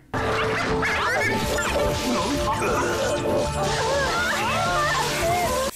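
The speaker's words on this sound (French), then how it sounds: "Vilain chien." A cartoon dog yips and whimpers amid loud crashing and thwacking action effects, its calls rising and falling in a busy, continuous animated scene with a faint voice briefly in the mix.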